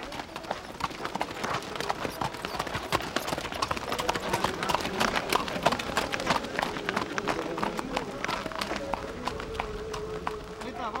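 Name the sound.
horses' hooves clip-clopping as Cuban peasants ride through village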